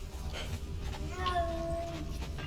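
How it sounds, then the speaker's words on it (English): Cats meowing in the video game Conan Exiles, with a drawn-out wail in the middle, set against a steady electronic game background and a low hum. "And he has cats too. You can hear them meowing."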